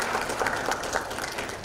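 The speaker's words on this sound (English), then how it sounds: "I think that deserves a good round of applause" An audience at a panel on technology and personalized learning gives a round of applause, a steady, dense wash of clapping heard at moderate distance throughout, with no talk over it.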